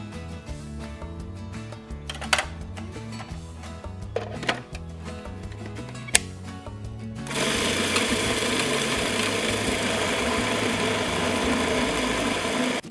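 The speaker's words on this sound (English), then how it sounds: "Chop it until everything is smoothly mixed." After a stretch of background music, an electric chopper starts up and whirs steadily at close range while blending a meatball mixture of meat, breadcrumbs, egg and cilantro. The motor drone continues unbroken to the end.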